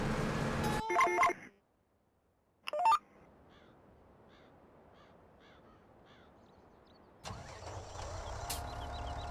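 A tractor engine in Farming Simulator 17 cranks and catches after a pause, settling into a loud steady idle that continues to the end; a brief burst of other game sounds comes before it.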